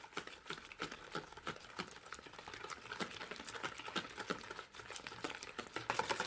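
Eggs being mixed into batter for a banana cinnamon chocolate cake with a whisk or mixer, giving a dense, quiet run of fast rhythmic scraping clicks against the bowl, steady and close.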